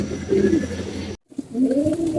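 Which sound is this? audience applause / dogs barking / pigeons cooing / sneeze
pigeons cooing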